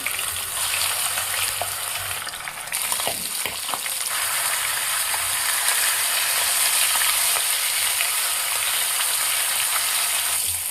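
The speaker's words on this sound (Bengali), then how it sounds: "কড়াইয়ে কিছুটা সর্ষের তেল দিয়ে তেলটা গরম হলে মাছের মাথাগুলো উল্টো পাল্টে কড়াভাবে ভেজে নেব" Steady, loud sizzling of fish heads frying in hot mustard oil in a wok fills the whole stretch, with a brief clatter of stirring near the start.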